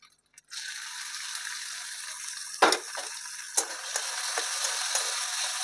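Chopped tomato and green chilli drop into a pan of frying onion, garlic and ginger paste, setting off a steady bright sizzle with a few louder crackling spurts.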